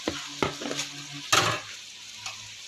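Food hitting a pan of sautéed garlic and ginger, a loud burst of frying sizzle with utensil scrapes and clinks as it is stirred, close up.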